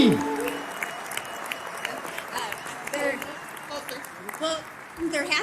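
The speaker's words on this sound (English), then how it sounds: "Look, even the crowd is cheering." A small audience cheers and claps at a gathering, a loose scatter of applause and whoops rising and falling, with voices talking and calling out over it throughout.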